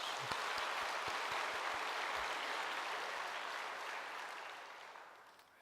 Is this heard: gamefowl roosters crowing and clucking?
no